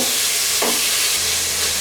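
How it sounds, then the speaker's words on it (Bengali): Thin pieces of ginger-garlic marinated chicken fry in hot oil in a pan over high heat, giving a steady, close, loud sizzle and hiss that fills the whole moment, with a brief sharper crackle partway through. "এখন আমি ওই একই প্যানে একটু তেল গরম দিয়ে তার মধ্যে এই মুরগির মাংস টুকরাগুলোকে দিব"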